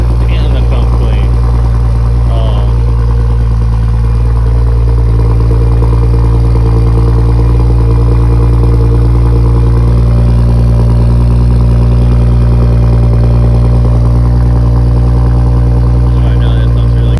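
A Lexus GS 350 V6 fitted with a Borla exhaust starts and idles, a loud, steady low rumble holding close by for the whole stretch, with faint talk in the background.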